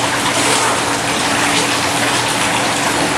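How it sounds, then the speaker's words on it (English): Rough water surges and gushes as a tiny ship is tossed, a loud, dense, unbroken rush of churning water that fills the whole stretch with no voices over it. "the water started getting rough, the tiny ship was tossed"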